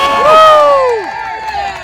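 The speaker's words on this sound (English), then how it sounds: "Let's get this guy a big round of applause." Loud crowd cheering and shouting for a NASCAR Xfinity Series race driver after the championship at Phoenix, a dense close roar with rising and falling whoops, lasting under two seconds.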